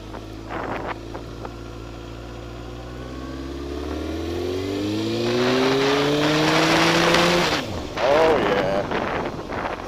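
A Honda CBR 954 sport motorcycle with a new front sprocket accelerates on a cold road, its engine climbing in pitch through the gears before dropping off. The engine is loud, close and mixed with wind rush, and a rider's voice comes in briefly.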